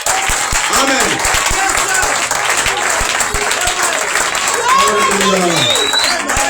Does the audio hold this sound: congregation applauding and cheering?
yes